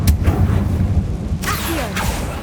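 A fire spell blast in a magic-themed video game lands with sharp explosive bursts, two strong broadband hits following an earlier pop, punchy and close over low rumbling background.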